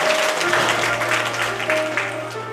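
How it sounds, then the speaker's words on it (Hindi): An audience at a Shrimad Bhagwat Katha gathering in Dehradun gives sustained applause, a dense wash of many hands clapping at moderate loudness with a faint steady hum beneath. "एक बार जोरदार तालियां आप लोग अपने लिए बजाएं"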